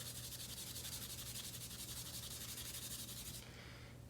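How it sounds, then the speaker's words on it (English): A hard-bristle brush scrubs a golf club in steady, rapid strokes, a close, continuous rasping rub that eases off slightly near the end. "So then you're gonna take this, give it a nice scrub"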